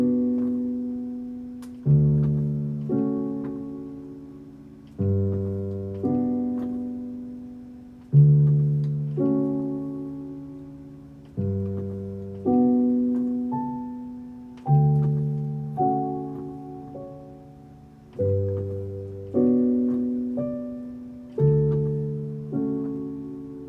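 The opening of Erik Satie's Gymnopédie No.1 is played on a keyboard instrument, slow alternating bass notes and soft chords in a steady waltz-like rhythm, each note decaying gently, alone without speech.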